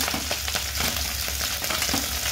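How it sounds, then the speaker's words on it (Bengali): Steady crackling sizzle of whole pabda fish frying in hot oil, with sharp pops and spits scattered throughout, close and continuous. "এক এক করে ছেড়ে দেওয়া মাছ ফুটছে ফুটছে ফুটছে"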